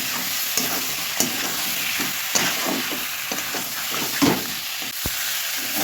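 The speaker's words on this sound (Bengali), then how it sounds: "এবারে এই এঁচোড় আর আলুটা একসাথে দিয়ে কিছুক্ষণ কষাবো" Jackfruit and potato pieces being sautéed together in oil, a constant close sizzle punctuated by regular scraping stirs and occasional sharp knocks of the spatula against the pan.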